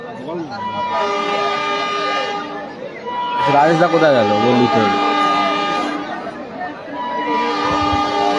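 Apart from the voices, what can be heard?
train passing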